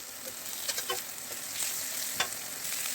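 Fish head frying with onion and garlic in a pan, a steady close sizzle broken by a few sharp scrapes and clinks as the mixture is stirred.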